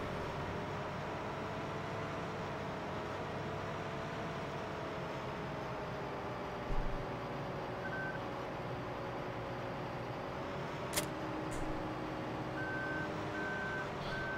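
A semi-truck in a farming simulator video game rumbles with a constant engine drone while its reversing alarm beeps in a steady, evenly spaced rhythm, faint at first and clearer toward the end.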